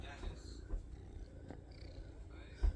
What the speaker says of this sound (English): He purring.